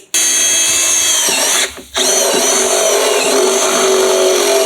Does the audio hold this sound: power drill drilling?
yes